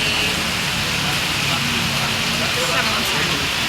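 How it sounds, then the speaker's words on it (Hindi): Heavy storm rain falling outside at a fair makes a dense, steady hiss throughout, with a voice talking faintly beneath it. "ये यहाँ पे दिख रही देखो बारिश, बाहर हो रही है तूफान बारिश"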